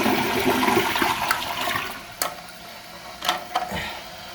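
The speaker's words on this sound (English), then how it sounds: "So what I'm going to do is I'm going to flush." A household toilet flushing during a DIY removal and replacement job, a loud close rush of water that fades into a gurgling refill, with a few clicks and clunks near the end.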